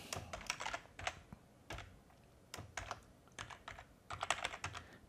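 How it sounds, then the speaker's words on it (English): A password goes in on a computer keyboard as quick clusters of crisp key clicks separated by short pauses, close and fairly quiet, with no speech. "Type it in again to make sure that we've got a matching password there."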